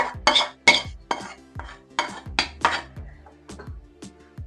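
A spoon stirring tempering into khara pongal in a pot, about ten sharp metallic scrapes and clanks in a loose, uneven rhythm, close and clear with no talking.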